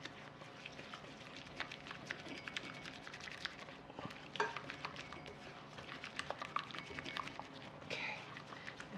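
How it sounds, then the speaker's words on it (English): Sugar and vanilla mixture for chocolate mousse is whisked in a bowl, a quick, faint, irregular clatter of wire tines ticking against the sides, with a few louder clinks. "I'm going to whisk this up till it's well blended"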